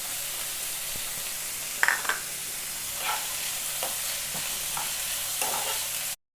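Curry leaves and green chilies frying in a pan under a steady soft sizzle, with a sharp spitting crackle early on and several scraping stirs, close by, ending abruptly; no speech.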